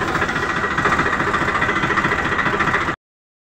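A tractor engine chugs steadily nearby with a rough, knocking idle for a few seconds, then cuts off abruptly.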